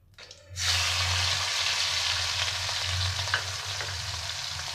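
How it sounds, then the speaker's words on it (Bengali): Prawns frying in hot oil give a loud, steady sizzle. It bursts in suddenly after a quiet start and holds a dense hiss with a low rumble beneath, with no voices. "এই তেলেই আমি দিয়ে দেব চিংড়ি মাছগুলো"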